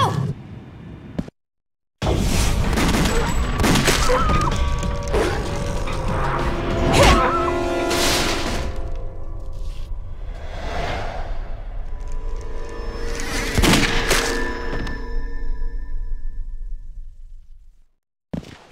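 Gunfire in Resident Evil: The Darkside Chronicles, a loud blast amid a dense, noisy game soundscape with several sharp bangs and whooshing effects over about eighteen seconds.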